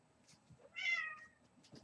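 A pet cat gives a single clear meow, fairly close and alone in a quiet room, with faint background shuffling before and after.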